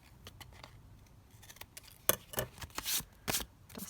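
Scissors snipping the edge of a paper book-page tag, a few crisp close cuts and rustles growing louder toward the end, with no talking.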